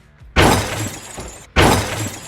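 Two violent impacts from a car smashing into a Tesla, a sudden loud burst of crunching and shattering followed by a second equally loud hit about a second later, each trailing off into rattling debris.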